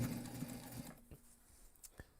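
A sewing machine stitching a backpack with a zipper: a brief run of rapid, close mechanical stitching that stops after about a second, followed by a few faint clicks and handling knocks in near silence.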